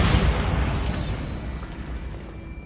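A Bombarda blast spell goes off in Hogwarts Legacy: a loud booming burst with a heavy low rumble that fades out over a couple of seconds, with no talking.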